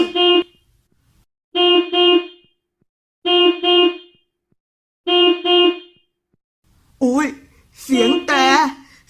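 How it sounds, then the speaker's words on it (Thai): A van's horn honks in four evenly spaced blasts, loud and close, followed by an excited voice shouting. "เสียงแตรเสียงแตรจากรถเรานี่นะ"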